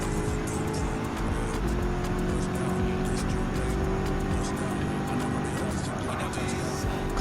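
Race car engines roar continuously around the Daytona track in Gran Turismo 7, including a 2016 Chevy Camaro SS, a steady loud drone of engines with a commentator talking over it.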